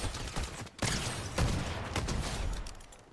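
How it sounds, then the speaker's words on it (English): Gunfire in Fortnite Zero Build comes as a dense, fairly distant fusillade of rapid cracks and bursts, with a couple of sharper shots standing out from the clatter. "they've been shooting for a while"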